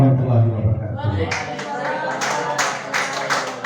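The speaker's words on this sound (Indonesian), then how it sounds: "Ya, berikan lagi tepuk tangan untuk kita semua." Audience clapping breaks out at a school teacher training dissemination session, starting about a second in after a voice and building into several bursts of claps over the room noise.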